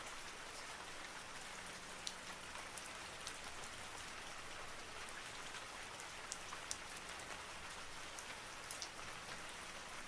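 Steady rain falls continuously with scattered crisp droplet ticks, an even, soft downpour with no speech.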